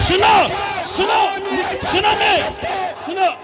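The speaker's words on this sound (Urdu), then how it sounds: "نعرے مت لگائے" A large crowd at a religious conference chants slogans in loud, rhythmic bursts, voices rising together in repeated call-like phrases that swell and fall several times.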